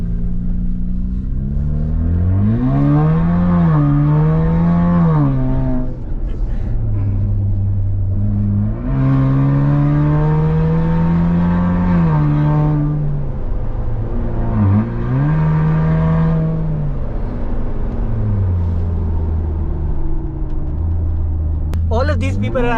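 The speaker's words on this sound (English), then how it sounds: "when this car's exhaust opens up, the valves open up, you can hear that beautiful symphony" A Jeep Wrangler fitted with a prototype sports cat downpipe, its valved exhaust open, revs and pulls hard with loud, sustained engine roar rising and falling in pitch through repeated surges, heard up close.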